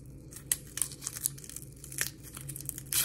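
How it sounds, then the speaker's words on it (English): Papery onion skin being peeled off by hand, giving scattered crinkly tearing bursts and crackles at close range, with a faint low hum underneath and no one speaking. "I don't actually remember how to peel an onion."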